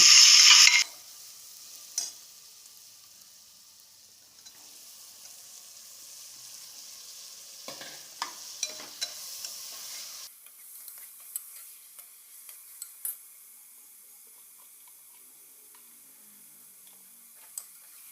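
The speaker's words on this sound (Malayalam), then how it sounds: "അപ്പോൾ ഈ തക്കാളി വഴറ്റുമ്പോൾ നമ്മൾ എപ്പോഴും ഉപ്പിട്ടിട്ട് വേണം കേട്ടോ വഴറ്റാൻ." Tomatoes and onions sautéed with salt in a pan for beef curry give a brief loud sizzling burst at the start, then a quiet stretch with scattered stirring clicks and scrapes.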